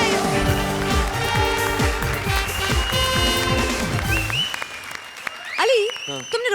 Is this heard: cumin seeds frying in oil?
no